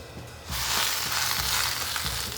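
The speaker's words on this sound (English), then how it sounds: "we're just gonna sear off some spinach to go nicely with it" Spinach seared in a dry, seasoned pan with no oil: a sudden loud sizzle bursts in and holds steady, with faint rhythmic thuds underneath and no talking.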